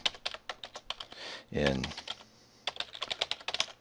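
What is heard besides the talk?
typing on a computer keyboard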